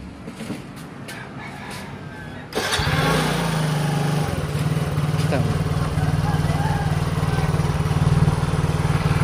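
A Yamaha Mio Soul 115i scooter engine cranks and fires up, then settles into a steady, fairly high idle. It is close by, with chickens clucking faintly before the start.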